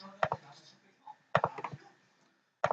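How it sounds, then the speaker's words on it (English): Keys on a computer keyboard are typed in a few short clustered bursts, close and crisp, with quiet gaps between them. "I'm going to type in this command right here"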